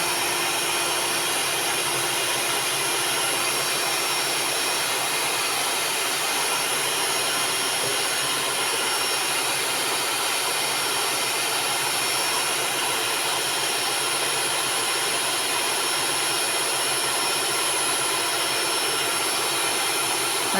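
An electric mixer beats sponge cake batter while flour is added little by little, producing a steady, loud, unbroken whir that holds constant for the full twenty seconds with no talking.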